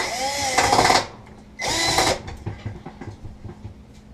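A power drill removes screws from a Whirlpool grill, whirring loudly in two short bursts that rise and fall with trigger pulls, followed by faint handling clicks.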